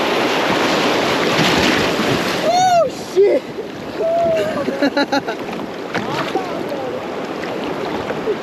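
Water sloshing and splashing around a kayak on rough water while fishing, a wash of close splashes and surf noise with several sharp bursts, under shouts and talk from people aboard.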